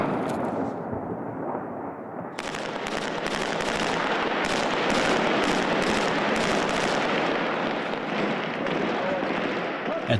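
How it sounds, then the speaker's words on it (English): Airstrike explosions hit a city at night, sounding as a continuous heavy, rumbling roar broken by a series of sharp, repeated blasts that crowd together after the first couple of seconds. "Airstrikes rock the city."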